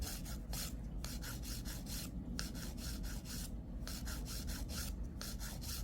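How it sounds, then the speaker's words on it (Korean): A nail file rasps back and forth across the surface of a nail extension, shaping and thinning it in quick, even, close strokes with brief pauses between bursts. "여기서는 파일에 힘을 빼서 쉐입 잡아주고 두께 한 번 더 완벽하게 잡아줍니다."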